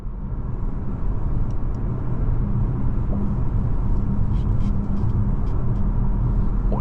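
A 2020 Audi E-Tron cruising on cruise control gives a steady, loud low road rumble with tire and wind noise throughout, no voices.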